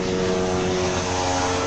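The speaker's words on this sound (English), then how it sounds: "there's a helicopter landing here" A helicopter landing nearby, heard as a steady, loud droning engine with a constant rotor hum throughout and no voices.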